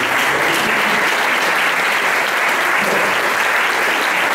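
Sustained applause from a seated audience at an author's book presentation in Alessano, steady and dense clapping filling the room without a break.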